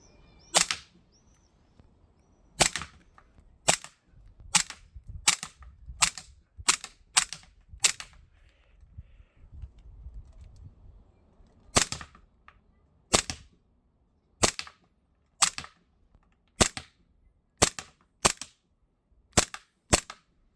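A Springfield Armoury XDM 3.8 Compact CO2 pistol shooting 4.5mm BB rounds fires about twenty sharp, close cracks in uneven bursts, with quiet gaps and faint handling noise between shots.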